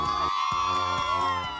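Organized supporters at a game cheer loudly and continuously, a sustained tonal chant or horn-like blare over regular thumping beats, close and filling the space.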